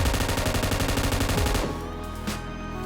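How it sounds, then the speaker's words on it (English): Rapid automatic gunfire bursts loudly and continuously from a BRDM armored vehicle in a video game until the magazine runs dry, then trails off into quieter ambience. "You need to start shooting before entering into BRDM. And you will shoot until you finish your mag."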